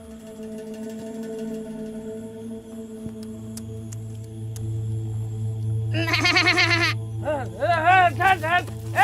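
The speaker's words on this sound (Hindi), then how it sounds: "बकरी" Goat bleating several times in a village setting, rising wavering cries starting partway through and repeating toward the end, loud and close over a steady low hum and background chatter.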